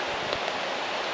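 Steady, dense hiss of rain falling on a campsite at night, a constant close wash of drops with no breaks across the short stretch.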